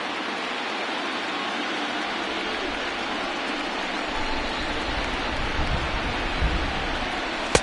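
Steady rain falls during a baseball game, a constant hiss of drops on surfaces filling the whole stretch, with a faint low rumble and a small knock near the end.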